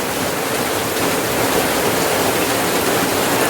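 Steady, dense rain pours onto trees as a loud, unbroken hiss of drops on leaves, constant throughout with no voices.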